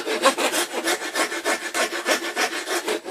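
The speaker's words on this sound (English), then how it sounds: "half round right type of file if I can find it. One of these to do the curves." A half round file working the curves of a wooden pistol crossbow part, a rough rasping scrape repeated in quick even strokes, about five per second, close and alone.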